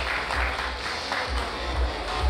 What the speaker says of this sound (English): another tremendous round of applause out here for the wonderful Miss Baby